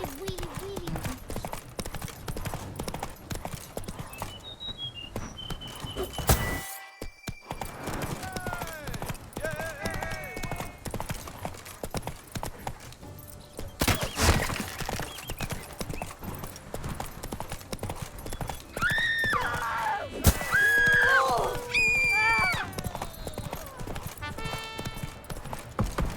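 Horse hooves clip-clop steadily in the Witcher 3 video game, with occasional neighs and whinnies over ambient game sound and bursts of noise, while voices talk.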